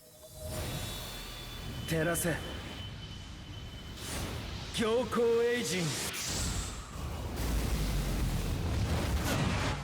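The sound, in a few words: Ichigo's Soul Bomb attack in video game Bleach: Brave Souls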